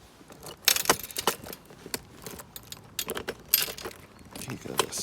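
Keys to a Yamaha Virago XV535 motorcycle jangle and clink close by in repeated bursts, picked up and shaken over a quiet background with faint talk.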